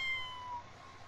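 A cat meows briefly in The Sims 4 video game, one short, moderately loud cry over quiet game background with no talk.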